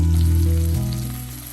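Stuffed okra fries in an iron skillet with a loud, steady sizzle, while a low hum underneath stops partway through.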